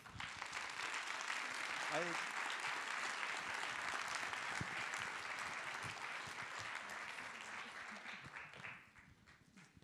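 A large audience gives warm applause to Caroline Frey, an organic winemaker, before an interview; dense sustained clapping fills the space, tapering near the end, with some voices faintly beneath.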